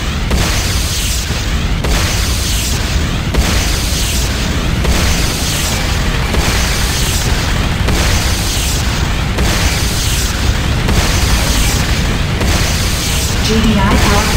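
Tiberium Refinery going up in the Renegade game, heavy booming blasts and rumbling destruction rolling continuously and loud at close range, with voices mixed in over the din.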